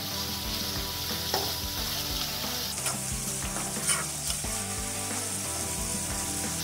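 Chopped onion fries for tawa pulao in a hot pan, a steady close sizzle with occasional scraping clicks of stirring over it.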